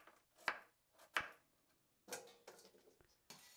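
Knife chopping winter squash into pieces on a board, a few sharp separate cuts spaced about half a second apart, quiet and close with no talk.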